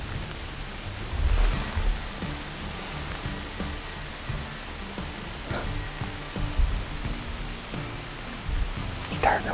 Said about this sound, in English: It's starting to rain now.